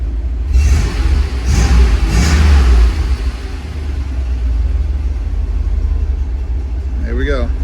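A 1982 Mercedes 380SL engine idles with a low, steady rumble, fairly high at low idle, while a person talks over it for the first few seconds.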